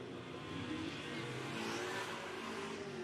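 Race cars lap a short oval speedway on opening weekend, engines droning steadily at a distance as the pack works through a corner, a continuous layered roar with no talk heard.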